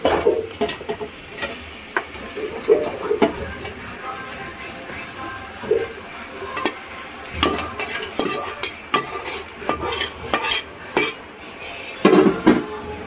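Chicken curry gravy stirred with masala in a pan, with repeated scraping and clinking strokes of a utensil over a steady sizzle, loud and close, in irregular bursts.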